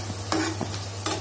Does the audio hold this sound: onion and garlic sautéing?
yes